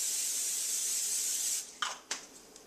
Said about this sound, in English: I spray it down so that the meat doesn't stick